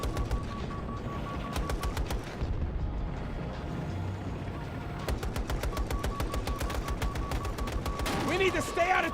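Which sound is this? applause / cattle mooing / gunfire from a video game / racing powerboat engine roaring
gunfire from a video game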